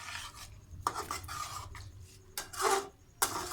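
Chicken karahi cooking in oil at a street stall, heard as intermittent scraping and stirring strokes of a utensil against the pan, with short bursts separated by quieter sizzling gaps.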